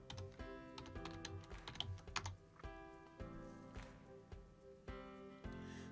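Quiet, rapid keystrokes on a computer keyboard come in uneven bursts of clicks and taps, with short pauses between words and no voices.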